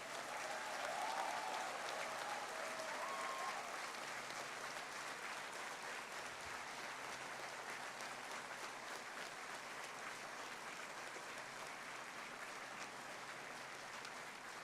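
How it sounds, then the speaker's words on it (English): Audience at a business school convocation gives a round of applause for the graduates' parents; soft, distant, even clapping from a large hall, steady throughout and fairly faint. "Can I have a big round of applause for your parents?"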